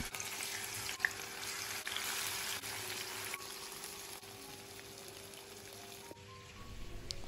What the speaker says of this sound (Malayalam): ഇനിയിപ്പോൾ ചിക്കനും കൂടെ ഒന്ന് ഫ്രൈ ആക്കിയെടുക്കാം.